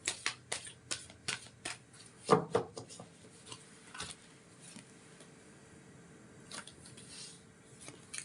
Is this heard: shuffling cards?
yes